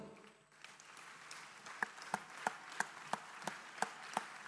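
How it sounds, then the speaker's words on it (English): An audience at a BMS Campus degree convocation in a full hall claps in a sparse, steady rhythm, with distinct sharp claps standing out about every third of a second over a softer bed of scattered applause. "They all deserve a round of applause"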